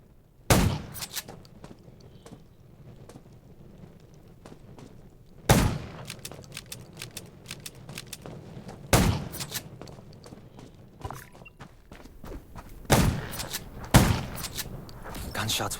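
Gunshots in the video game Undown, set in a junkyard among zombies, ring out as sharp, loud single blasts and short bursts at irregular intervals over a quiet background, with faint footsteps between them.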